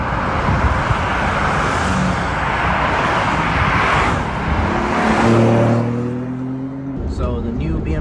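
A BMW G80 M3 Competition runs as a close, continuous roar, with a humming engine tone that rises and holds in the later seconds before the sound suddenly drops away.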